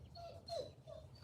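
A dog whimpers softly: faint, brief high whines, one rising and falling in the middle, heard close but quiet.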